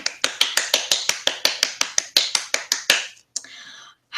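About a dozen crisp finger snaps in a steady, fairly fast rhythm, close and bright, offered as a round of applause, then a brief pause and a couple of scattered snaps at the end.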